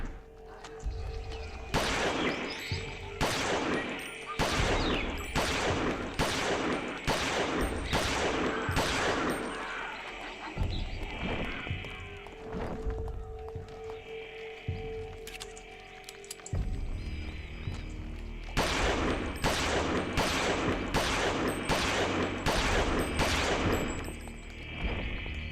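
Repeated gunfire from a weapon in the horror video game Eternal Darkness: dense volleys of loud shots in rapid bursts, a short lull midway, then another sustained string of blasts, with no talking.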